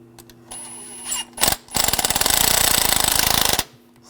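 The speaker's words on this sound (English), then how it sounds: "I'm going to put the bolt in here, tighten that down" A power tool tightens a bolt on a Mercedes-Benz E350 intake manifold. Short bursts give way to a loud, steady rattling run of about two seconds that then stops.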